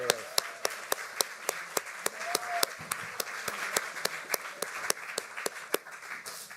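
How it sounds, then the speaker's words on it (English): Applause following a reading at an archive launch event, sparse and fairly quiet, dominated by one or two nearby pairs of hands clapping in a steady, evenly spaced rhythm, with faint room sound behind. "Let's give another round of applause for Eddie Ramirez."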